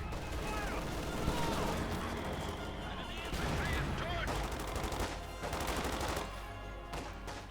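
MG42 machine gun fire in a Company of Heroes 2 1v1 match, rapid bursts and scattered battle noise running steadily beneath a commentator's continuous talk.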